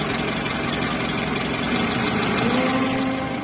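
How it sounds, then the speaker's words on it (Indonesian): Yamaha T120SS motorcycle engine idling roughly with the cylinder 1 spark plug cable pulled, a close, steady, uneven mechanical chug with a continuous rattling drone and no talking. "Untuk posisi stasionernya jadi kecil atau tambah pincang, kelihatan seperti ini."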